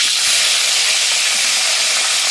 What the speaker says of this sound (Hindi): भिंडी को फिर फ्राई करेंगे, इसे भी गोल्डन ब्राउन फ्राई करेंगे